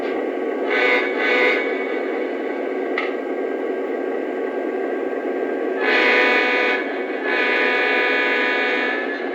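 An SD70 freight locomotive of the Savannah and Atlanta railroad pulls out, its diesel drone steady under repeated loud horn blasts, two short ones early and a longer pair later, heard from fairly close with no talk.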